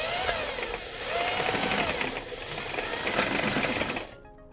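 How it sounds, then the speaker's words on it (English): A tomato strainer's auger presses tomatoes for homemade sauce, giving a loud, steady hissing and ratcheting mechanical churn in surging waves that stops abruptly near the end. "I could probably load more into the hopper now that we've got the auger's nice and lubed up and good to go."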